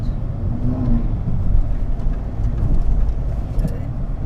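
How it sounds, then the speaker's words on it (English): A Ferrari sports car passes nearby, a steady low engine rumble and road roar that swells and fades slightly over a few seconds while someone talks over it. "as a Ferrari drives past"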